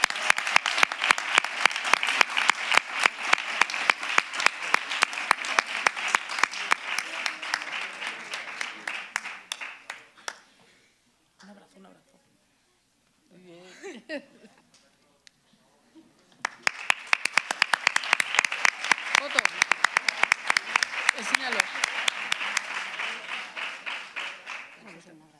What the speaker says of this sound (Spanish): Un aplauso para Martina,